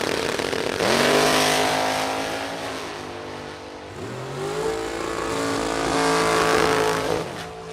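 Two drag racing cars, a 2000 Camaro and a 565 Mopar, launch and make a pass down the strip, engines roaring loud with rising revs and gear shifts, a brief dip then another long climbing wail, no talking.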